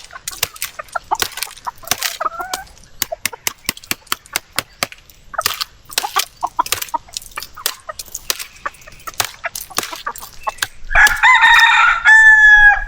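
Chickens peck at feed on a farm, sharp rapid pecking taps on a hard surface with sparse close clucks, ending in a loud burst of squawking.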